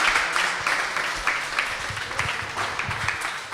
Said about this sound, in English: give all our representatives here a round of applause